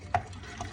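Utensil raked through a sourdough starter mixture of flour and water in a bowl, one quick wet scrape followed by a fainter second swish, close and soft.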